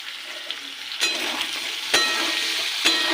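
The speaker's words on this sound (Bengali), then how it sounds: "ভেজে নেব।" Chopped tomato fries in a pan for potato curry, a steady hiss of sizzling oil close by, broken by a few sharp clicks of stirring.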